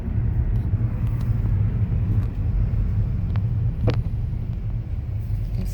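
A car's low rumble stays loud and close throughout, a continuous road drone with faint higher whooshes and no talking.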